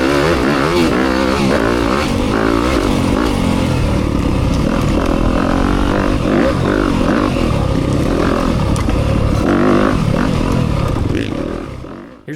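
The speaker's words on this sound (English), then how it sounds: "It just rockets out of corners like this one." A Yamaha YZ250FX four-stroke dirt bike running a low-end map accelerates hard out of corners, its engine roaring loud and continuous with rising and falling revs close to the rider for the whole stretch.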